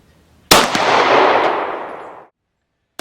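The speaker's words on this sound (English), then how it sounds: "I'm going to fire 2 5-round groups on target." One sharp shot from a French 1935A pistol firing .32 French Long cartridges at a target range, a loud close crack with a roughly two-second decaying echo, then silence.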